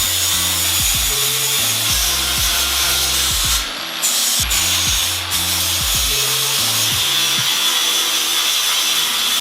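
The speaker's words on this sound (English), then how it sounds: "grinded down any welds that were too high or ugly" Angle grinder working over steel welds on a homemade angle-iron trailer frame, a loud continuous abrasive whine with rising and falling pitch as the disc bites and lifts, briefly easing off twice mid-run.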